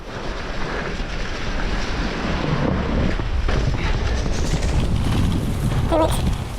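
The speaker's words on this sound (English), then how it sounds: "Like a river. Bloody hell. That's a lot of water in there." A swollen stream full of winter rainwater rushes beside a mountain bike trail at Cwmcarn, Wales, a loud, continuous roar mixed with wind buffeting the microphone.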